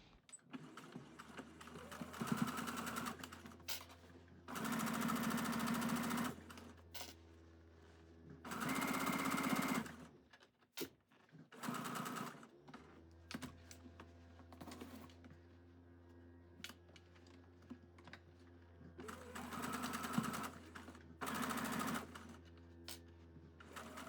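A sewing machine stitches the zipper seam of a quarter-zip pullover in several loud, fast bursts of rapid mechanical whirring, separated by quiet pauses and a low motor hum.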